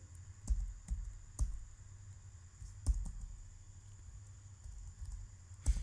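A computer keyboard clacks in scattered, quiet keystrokes as HTML list code is typed, with a few sharper taps breaking a soft, steady background hum.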